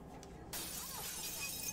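Glass shattering in the video game Hitman, a sudden broadband crash at about half a second that sustains as a dense spray of tinkling shards for over a second, fairly loud against a quiet low background.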